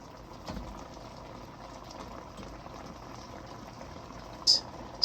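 A pot of Nigerian Afang soup boils on the stove with a steady low bubbling and simmering hiss, plus a couple of small clinks near the end.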